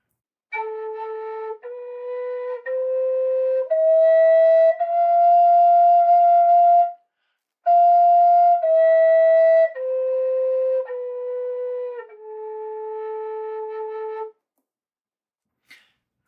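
Native American flute playing the five notes of the Hirajoshi scale within one octave, clear, breathy sustained tones stepping up and then back down, each note held a second or two, solo and near.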